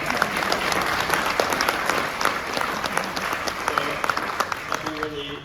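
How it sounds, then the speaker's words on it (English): A crowd at a benefit concert claps steadily and densely throughout, a sustained wash of applause with faint voices underneath. "So really a big round of applause."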